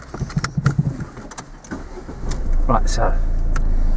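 A car engine cranks and catches after a few seconds of talk, then settles into a steady, loud idle that continues to the end.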